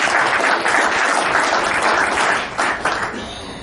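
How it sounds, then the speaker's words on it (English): Honor Flight veterans and guardians give themselves a round of applause, a loud, close burst of many hands clapping that holds strong and then thins out toward the end. "Give yourselves a round of applause."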